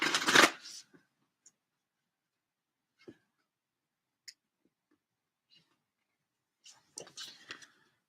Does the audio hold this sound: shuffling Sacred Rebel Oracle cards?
yes